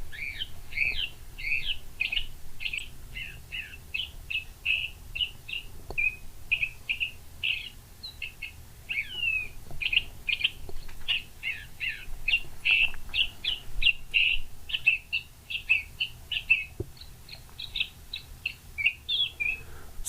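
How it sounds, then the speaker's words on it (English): A bird in chaparral habitat gives a long, complex call made of rapid, varied chirps and trills. The notes repeat steadily for about twenty seconds, fairly close and clear, over a faint low hum with no voices. "bird calls can be complex, and this is an example of a relatively complex call"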